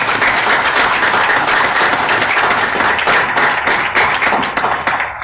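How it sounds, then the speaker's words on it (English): An audience at a Norfolk Naval Shipyard change of command ceremony applauds loudly and continuously, dense clapping filling the room without a break. "So how about a round of applause for all of our industry partners here today?"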